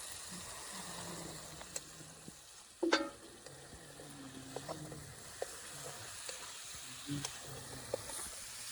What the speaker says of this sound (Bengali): সুন্দর করে এগুলো নাড়াচাড়া করে নিতে হবে।